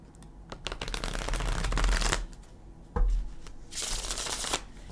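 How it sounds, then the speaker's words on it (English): A Gilded Tarot deck is shuffled up close, with long riffling bursts followed by a sharp tap and another crisp riffle. "Let's give it a couple shuffles"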